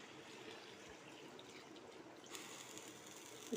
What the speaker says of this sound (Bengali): গরম জল ঢেলে দিয়ে ফুটতে দিয়ে দেবো